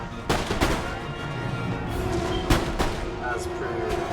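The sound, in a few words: cannon fire in video game Empire Total War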